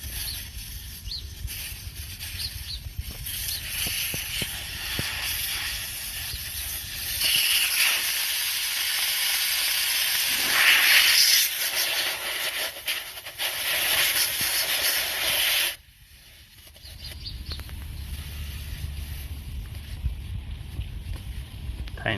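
Air hisses loudly and steadily from a tire valve stem with the Schrader core removed, a continuous rush that swells midway and then drops off abruptly, leaving a quieter low rumble.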